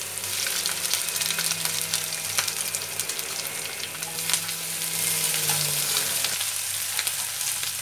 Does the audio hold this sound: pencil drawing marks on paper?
no